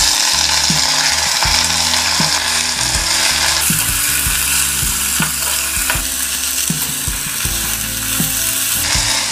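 Jute leaves frying in a hot pan, a loud continuous sizzle with rhythmic low clatter and scraping as they are stirred, close and with no talk.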